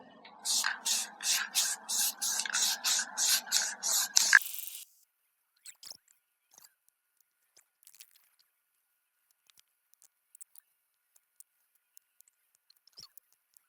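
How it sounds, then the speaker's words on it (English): A rattle can of matte black spray paint coating old drum shells outdoors: about nine quick hissing spurts in a steady rhythm over four seconds, followed by quiet with scattered faint clicks and taps. "we got a rattle can of matte black ready to go, so let's do it"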